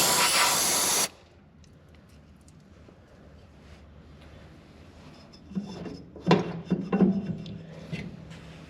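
Brake cleaner sprayed from an aerosol can onto Ariens snowblower parts during a repair, a loud steady hiss for about a second, then quiet shop handling noises and clattering parts.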